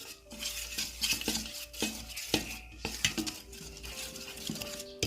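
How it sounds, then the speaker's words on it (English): Rice-flour batter for peanut rempeyek being mixed in a bowl, with repeated clinks and scrapes of a utensil against the dish at a steady, busy rhythm near an aluminum frying pan of oil. "We mix the dough,"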